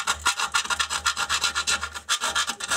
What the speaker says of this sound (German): ich brauche eigentlich hier nur ein bisschen zu feilen